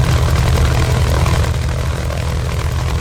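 An A6M5 Zero's radial engine running steadily just after startup in a flight simulator, a loud, dense, continuous propeller drone with a deep low-end throb and no voices.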